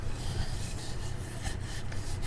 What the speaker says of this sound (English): Wiping this down a little bit.